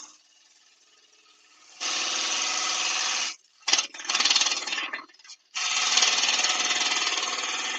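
A bowl gouge with a long 15–16 inch handle cuts a wooden natural-edge vase with a big knot on a lathe, giving a loud, steady rasping scrape in long passes broken by short pauses and choppy bursts.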